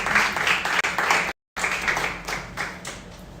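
Applause from an audience at a raw materials lecture, dense steady clapping that fills the room, cut by a brief dropout midway and then resuming before fading slightly at the end.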